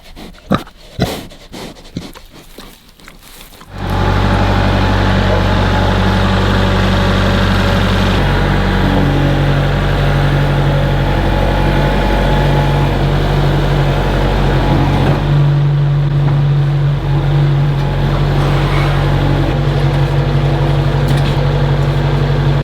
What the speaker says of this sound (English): It's got an 8 horsepower Briggs & Stratton engine on it, and it runs.